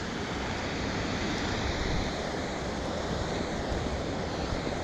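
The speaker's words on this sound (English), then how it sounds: "There's your nice waterfalls." A steady, dense rush of falling water from a waterfall at Gayle roars evenly and continuously, close and unchanging, with no voices.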